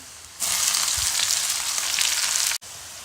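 Curry leaves, peanuts and onion hit hot oil for aloo poha, bursting into a loud, close, hissing sizzle that holds steady before cutting off sharply near the end, with no talking.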